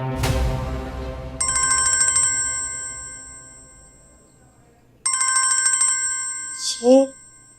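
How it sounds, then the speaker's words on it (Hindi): A mobile phone ringtone sounds indoors during a dramatic scene, with two bright melodic bursts separated by a quiet pause, after a sharp opening hit and before a brief voice near the end. "ये मुझे फोन कर रहा है।"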